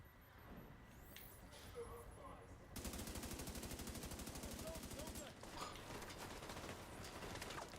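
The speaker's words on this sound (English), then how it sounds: "That's his machine gun hitting me." Enemy machine gun fire in The Division 2 erupts as a rapid, sustained burst of shots, close and loud, continuing for several seconds after a quieter stretch of game sounds.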